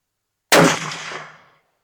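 A Remington 700 .308 rifle fires a single sharp, loud shot out of silence, its report ringing off and decaying over about a second.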